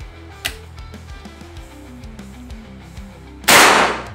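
A faint click, then a sharp, loud PCP air rifle shot near the end with a brief hissy crack, heard close against a low background hum.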